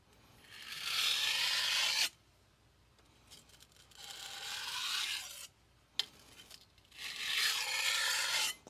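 A knife is deburred on a 400 grit sintered diamond stone with a very light touch, giving three soft, separate rasping strokes, each about two seconds long, with quiet gaps between them.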